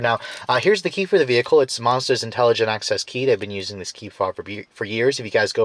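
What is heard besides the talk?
No distinct noise like a dog, phone or traffic.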